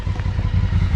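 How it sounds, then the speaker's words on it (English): A dual sport motorcycle engine runs close by with a loud, throbbing low idle, its rapid steady pulses mixed with light mechanical clatter. "I hear a familiar sounding engine."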